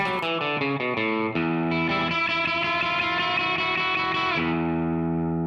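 A distorted electric guitar plays a bluesy riff from a song: a few choppy stabbed notes, then sustained ringing chords, loud and continuous with no voices.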